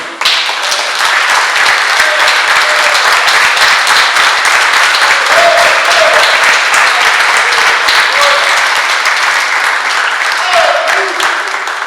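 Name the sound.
congregation applauding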